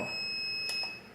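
A steady high-pitched electronic alarm tone from a heat press machine rings continuously, with a couple of brief clicks partway through, fairly quiet with no voices.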